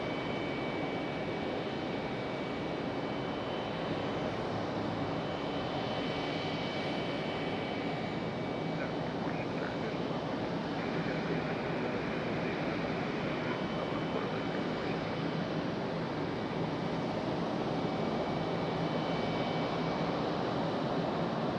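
Steady, broad jet engine roar from a Boeing 777 taxiing at Raleigh-Durham airport, continuous and moderately distant, with a faint high whine riding on top.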